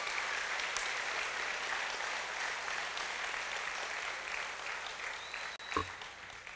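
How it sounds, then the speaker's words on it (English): A large audience at the Choctaw Nation State of the Nation address applauds the tribal council, a steady, even wash of clapping from a hall crowd, with a brief thump near the end. "Let's give our tribal council another big round of applause."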